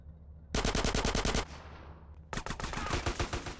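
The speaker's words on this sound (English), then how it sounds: "Sweet, who are you letting shoot me?" Loud automatic machine gun fire in Grand Theft Auto San Andreas: a steady burst of about a second, a brief pause with decaying echo, then another sustained burst, close and alone.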